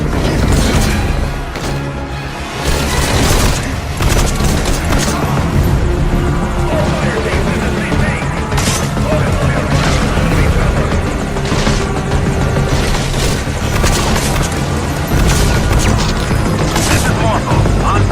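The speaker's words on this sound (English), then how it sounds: "Our chopper is coming, so let's see if we can make a run for it." A helicopter arrives amid gunfire in Metal Gear Solid V, its loud rotor chop dominating while bursts of shots and booms crash in throughout, dense and close for the whole stretch.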